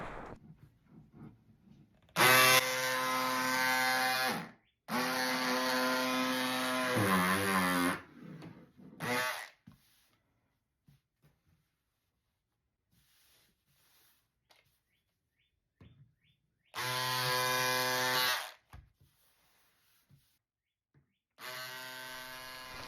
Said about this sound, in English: you don't have to use electric scissors